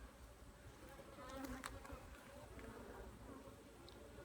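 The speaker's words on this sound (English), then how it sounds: "there's a ton of bees in here" Dense, steady buzzing of many honeybees inside a beehive, a low droning hum that swells slightly midway and continues without pause.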